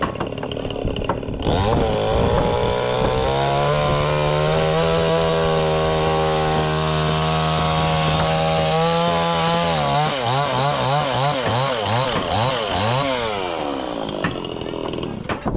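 Chainsaw cutting wood during repair of a bridge over a stream, running loud and close with a steady high engine whine that bogs and wavers as it bites into the timber, continuous for the whole stretch.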